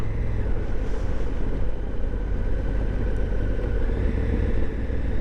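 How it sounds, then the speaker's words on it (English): A Honda Africa Twin adventure motorcycle engine rumbles steadily while riding, a loud low throbbing drone with slight pitch shifts and wind noise, no voices. "She gargles quite nicely, this bike"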